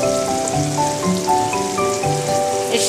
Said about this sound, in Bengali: এর সাথে এবার পটলটা এবার একটু ভেজে নেব।